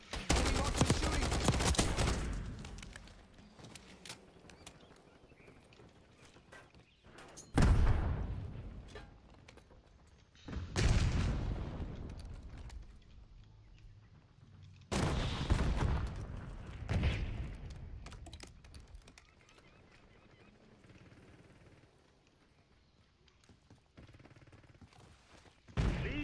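Video-game gunfire from an enemy marksman, with bursts of loud shots and booming impacts repeating every few seconds, each trailing off into quieter battlefield noise.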